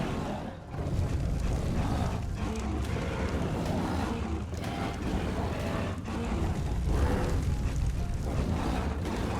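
In the video game Ark Survival Ascended, a modded Dodo Rex unleashes a fire attack, a loud, continuous roaring whoosh of flame with rumbling bursts that keeps going without a break.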